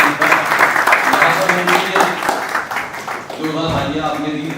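Applause from an audience at a concluding program for a Reflexology Day event, dense clapping running throughout with a talking voice over it, then briefly thinning before steady clapping resumes.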